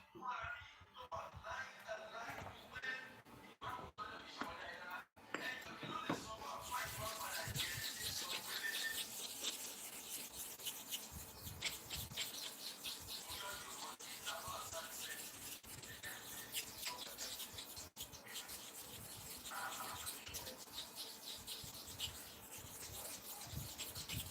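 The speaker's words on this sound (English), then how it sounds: "You repeat the sharpening again so that you make sure you have sharpened the clipper blade correctly" A hair clipper blade is rubbed back and forth on a sharpening stone, a continuous gritty scraping that runs steadily throughout, with faint voices talking in the background.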